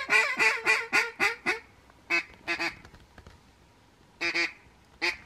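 Ducks quack during a Kentucky duck-hunting season opener, a rapid series of loud close quacks followed by a few shorter bursts after a pause, with no talking.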